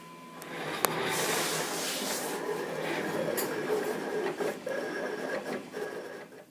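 Vinyl cutter slicing sign vinyl for a glass etching stencil, a steady mechanical whir with rhythmic clicks and carriage movement sounding close and continuous throughout.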